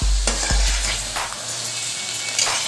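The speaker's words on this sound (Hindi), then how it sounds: "इसमें लहसुन और अदरक का पेस्ट इसको फ्राई कर लिया है हमने अंदर" Garlic and ginger paste frying and being stirred in a traditional kadai for chicken shanwari, a steady close sizzle with a few scraping stirs at the start, no voices.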